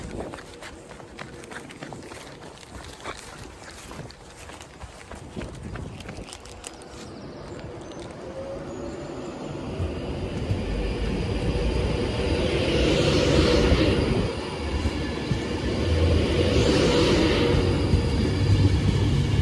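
A Class 390 Pendolino electric train, unit 390040, pulls out of Stoke-on-Trent station with a low rumble that builds steadily over twenty seconds, joined by rising whine and passing rolling noise as it gathers speed nearby.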